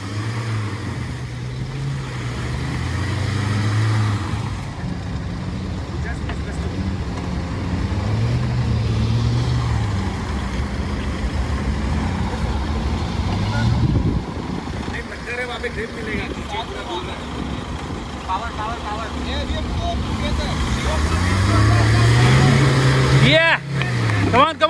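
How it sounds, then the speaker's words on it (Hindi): Mahindra Thar stuck off-road with its engine revving hard at full throttle, a loud sustained roar that rises and falls over about 25 seconds while people talk over it. "थ्रॉटल दे पूरा।"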